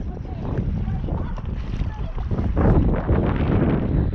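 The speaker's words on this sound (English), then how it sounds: "Scoop towards the back of your kayak more." A kayak paddled through choppy water on a windy outing around an island, with steady splashing strokes and strong wind buffeting the microphone throughout.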